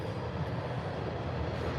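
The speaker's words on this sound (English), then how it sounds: "No, there's a train behind him." A train rolling downgrade, a steady broadband roar and rumble with a deep low-end drone, loud and continuous with no voices heard.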